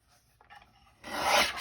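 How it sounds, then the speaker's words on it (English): Material is trimmed while making pockets, a short rasping cut with scissors that follows a few soft rustles and handling noises, close and alone. "we're gonna trim here"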